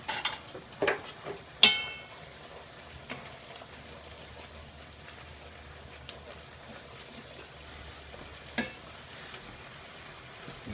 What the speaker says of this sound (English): we're going to make this delicious sauce with what's left in the pan. So we're going to let that simmer a little bit more.